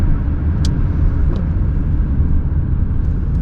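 Lexus LS430 sedan in power mode with quickened throttle response, a loud steady low engine and road rumble heard from inside the cabin, with a couple of faint ticks and no talk.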